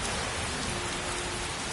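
Steady rain hisses in the Skyrim video game during a thunderstorm, a dense, even wash of sound with no distinct thunder crack and no voices.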